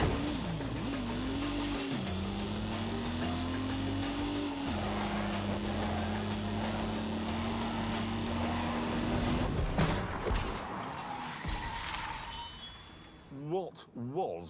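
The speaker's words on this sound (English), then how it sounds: "What was that noise? Whole car's vibrating." In The Grand Tour video game, a steady car engine drone with a low humming tone holds for about nine seconds, then a rattling clatter and shifting noise take over as the whole car vibrates, before it fades.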